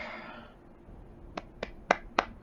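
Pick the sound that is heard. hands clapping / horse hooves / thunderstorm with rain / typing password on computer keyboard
hands clapping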